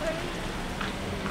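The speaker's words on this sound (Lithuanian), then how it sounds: "Lietutis lyja." Light rain patters steadily on a surface, a soft continuous hiss with no clear individual drops.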